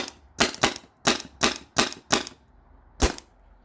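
Tippmann TiPX paintball pistol on CO2 fired in a quick string of six sharp pops, then a short pause and one last shot, loud and close with little else around.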